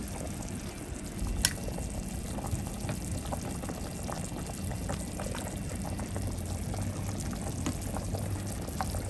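Pork nilaga broth boils steadily in a pot, with a soft continuous bubbling and scattered small pops close by, and no one speaking.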